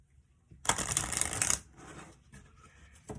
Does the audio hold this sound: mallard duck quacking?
no